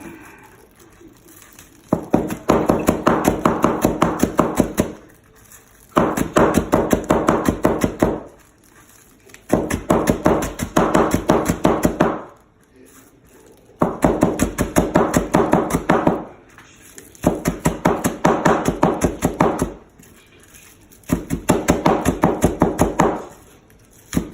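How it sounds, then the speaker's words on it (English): A knife chops green onion greens finely on a board, rapid steady tapping in about six bursts of several seconds each, separated by short pauses, close and clear with no talk. "let's cut this green finely"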